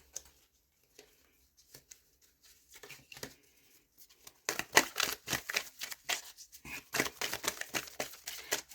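Tarot cards being shuffled by hand, starting with faint scattered taps and then a steady run of quick, close, crisp riffling flicks in the second half, with no talking.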